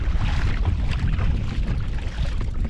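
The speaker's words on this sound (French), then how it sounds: "C'est pas facile de pêcher quand il y a beaucoup de vent." Strong wind buffets the microphone during sea kayak fishing for bass at sea, a steady, loud roar with low rumbling gusts filling the whole stretch and no voices.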